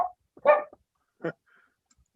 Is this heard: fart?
no